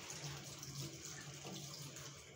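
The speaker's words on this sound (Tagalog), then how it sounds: "Natulo yung gripo." A leaking kitchen faucet runs steadily, a soft continuous trickle of water with no talking over it.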